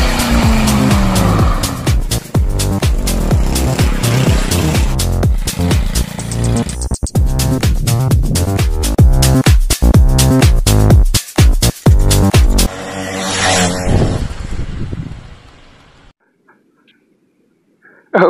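A motorized bicycle rides along country roads, its small engine giving a loud, buzzing whine that rises and falls with revving and gear changes, then trails off into near silence at the end.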